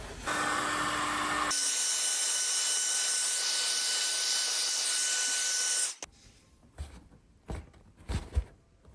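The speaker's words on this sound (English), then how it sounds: "One of the first things I'm going to do is heat this with a heat gun." Heat gun blowing on RM250 motocross bike plastic, a loud steady high-pitched whine and rush of air that cuts off abruptly, followed by faint handling knocks.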